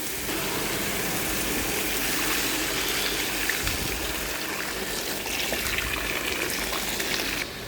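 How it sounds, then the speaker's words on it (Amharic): Boiling water is poured steadily into a pot of fried chicken pieces for chicken maqluba, giving a continuous close rushing, splashing pour that lasts throughout with no talk. "ዶሮ እንዲቀላ እንዳለ የፈላ ውሃ ነው የምጨምርበት።"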